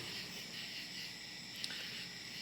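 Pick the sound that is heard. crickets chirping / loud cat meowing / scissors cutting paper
crickets chirping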